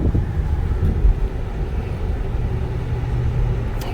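A 15-year-old Lexus LS 430 with about 96,765 miles driving, a steady low road and engine rumble with faint wind noise, heard from inside the cabin without talk.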